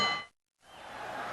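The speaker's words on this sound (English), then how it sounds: "the bell for round 7, scheduled for 12." A brief metallic ring of a boxing ring bell signals a round in a heavyweight bout between Muhammad Ali and Ken Norton. The ring is cut off quickly, and a low arena murmur follows.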